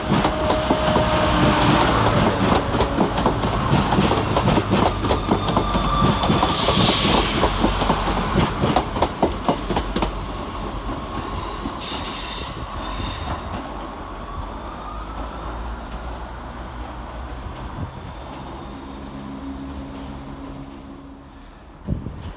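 A Chiltern Railways Class 168 diesel passenger train pulls away from London Marylebone station, engine throbbing loudly with clattering wheels over rail joints, then fading gradually into the distance.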